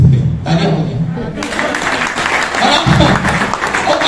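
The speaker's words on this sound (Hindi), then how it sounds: "तालियां हो गई।" A burst of clapping from a seminar crowd in Rohtak swells and continues for several seconds, with a voice briefly speaking over the noisy applause.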